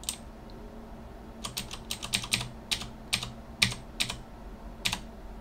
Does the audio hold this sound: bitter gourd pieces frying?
no